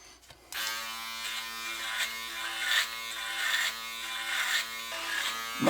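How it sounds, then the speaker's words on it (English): A steady electric shaver buzz with a bright, harmonic hum, held close and continuous, swelling slightly a few times as it runs. "Well, it sounds like a shaver."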